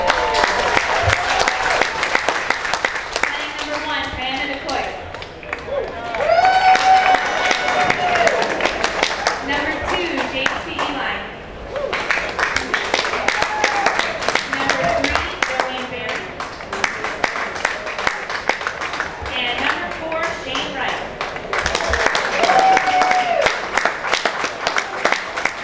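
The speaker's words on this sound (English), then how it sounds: "how about a round of applause for the Morgan Stanley team?" A polo crowd applauds the winning Morgan Stanley team at the UnitedHealthcare 12 Goal Cup. Clapping and some cheering run steadily for the whole stretch, and an announcer's amplified voice keeps talking over the crowd.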